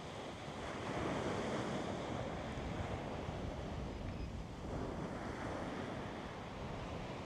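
Surf breaking and washing ashore at Gilligan Beach on Boracay Island in the Philippines, with steady wind buffeting the microphone; a continuous, fairly loud roar with gentle swells and no voices.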